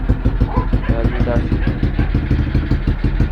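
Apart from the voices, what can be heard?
small motorcycle engine running after rebuild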